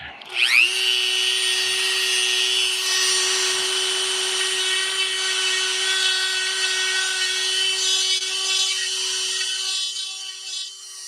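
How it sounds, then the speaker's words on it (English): A Dremel rotary tool whines steadily at high speed while working on a model tank, a loud, close, continuous buzz that starts abruptly and holds for several seconds, no talking. "Looks like I need to get out my other Dremel so I can swap between Dremels instead of having to swap bits."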